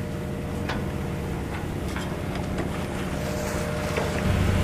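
A sailboat motors under engine on an overnight passage toward Cascais, Portugal, giving a steady low engine drone mixed with wind and water rush that swells slightly near the end, with no talking.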